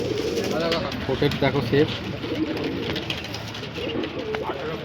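Pigeons coo at a busy village market where young metallic-plumaged birds are sold, soft repeated cooing under close conversation and crowd noise.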